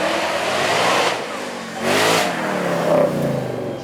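A supercharged 5-litre V8 Ford Mustang accelerates hard along a track at a supercar weekend, its loud engine rising and falling through several surges as it passes close, with a whine over the rumble.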